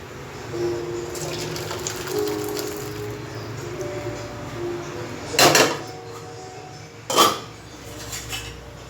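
Kurma is moved from a pot into a bowl. A metal spoon clinks and scrapes against the cookware, with two sharper clatters partway through. It sounds close, with no talking.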